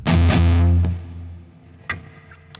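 Electric guitar through a Soldano amp and a 4x12 cabinet at maximum gain with compression: one heavy distorted chord rings out loud and then decays, followed by a few faint picked notes and string noise.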